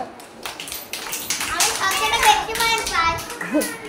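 Children clapping their hands in a classroom, a busy run of claps mixed with chatter and voices from the kids and an adult speaking over them.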